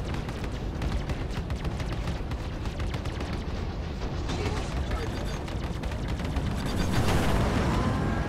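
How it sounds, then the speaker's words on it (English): A space dogfight in the Vanduul Swarm game brings a dense, continuous barrage of rapid laser shots and explosive thuds, with a louder burst of missile impacts toward the end. "after a quick exchange of laser fire, a couple of my missiles make short work of his hull"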